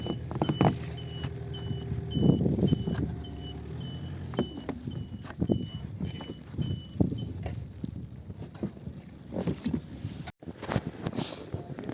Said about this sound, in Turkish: Araba hareket etmiyor patinajda.